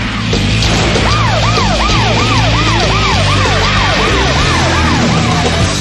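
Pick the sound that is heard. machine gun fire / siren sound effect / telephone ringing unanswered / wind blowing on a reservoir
siren sound effect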